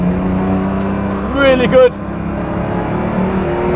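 A 510bhp BMW M2 Competition on a track, its engine droning steadily and swelling into a brief louder rev at mid-clip before settling back, with someone talking over it.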